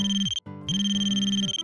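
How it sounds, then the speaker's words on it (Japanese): A phone ringtone plays for an incoming call, a bright electronic melody of sustained tones broken by one short gap, loud and close with no talk over it. "電話かかってきちゃった"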